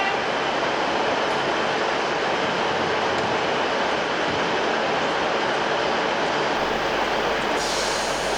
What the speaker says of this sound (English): Eventually, the Newcastle service departs from platform 3.